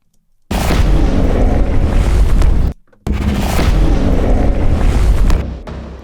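Deep rumbling, booming sound design for a Porsche Taycan, evoking heavy shifting rocks and earth: two loud sustained low surges split by a brief silence, the second fading out.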